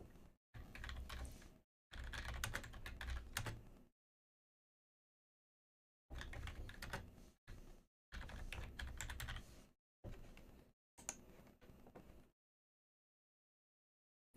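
Bursts of computer keyboard typing, close and clear, arriving in several runs of rapid keystrokes separated by pauses of near silence, with no talking.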